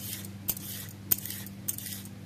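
A knife slicing carrots thinly on a board, with a few sharp, evenly spaced cutting taps close by over a low background hum.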